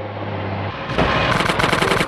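Rapid bursts of gunfire in GTA San Andreas, a short automatic volley breaking out after a brief quieter moment and rattling on loudly to the end.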